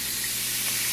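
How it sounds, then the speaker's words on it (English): Sausage sizzles in a pan on low heat, producing a dense, constant hiss of frying fat that fills the short moment without any pause or talk. "so you can hear it sizzling"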